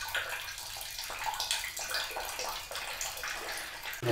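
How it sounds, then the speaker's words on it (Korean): Water trickling and burbling steadily in a small stream outside a secluded rural room, close and continuous at a soft level with no talk. "그 앞으론 졸졸 흐르는 물소리까지."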